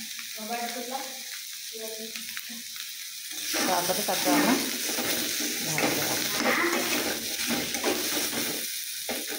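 Potatoes frying in a pan on a gas stove begin hissing loudly partway through, a continuous close sizzle following brief speech at the start, with occasional stirring scrapes.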